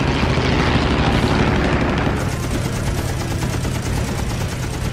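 WWII fighter plane machine guns firing during an aerial dogfight, a loud dense rattle of rapid bursts over a roaring aircraft engine, continuous and close.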